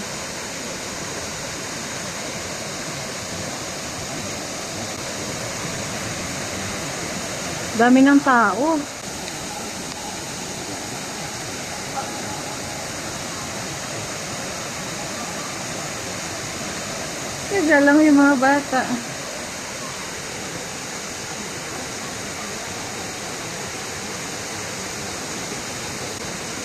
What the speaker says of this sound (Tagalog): Dito po ay mayroong waterfall.